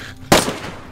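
A single sharp gunshot in DayZ cracks out loud and close, followed by a brief decaying tail.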